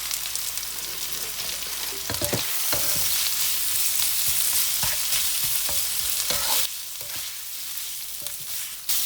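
Leftover meats fry with garlic in a pan, a loud, close, continuous sizzle broken by repeated clattering and scraping stirs.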